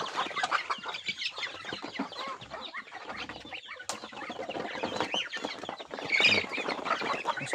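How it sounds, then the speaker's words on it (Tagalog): Chickens cluck and chatter continuously nearby in a rural backyard, with a slightly louder squawk toward the end. "Meron tayong manok."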